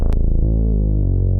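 A deep analog synth bass line, equalized so it sounds rounder and darker with the top end trimmed, moves through a few sustained notes at steady volume.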